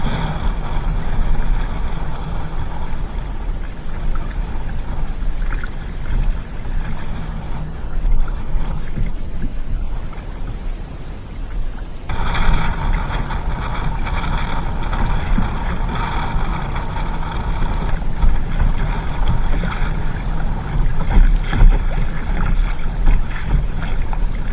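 A kayak crosses open lake water on Lough Erne, with a steady wash of water and low wind rumble over the microphone throughout and a brief quieter lull partway before the paddling noise resumes.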